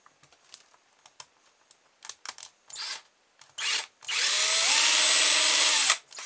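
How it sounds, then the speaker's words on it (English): A small drill bores a little hole in a propeller for a rubber band powered air boat, starting with scattered light taps and short bursts, then a sustained high whine for about two seconds before stopping, close and alone. "Drill a little hole in that."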